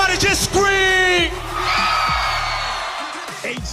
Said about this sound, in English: Everybody just scream!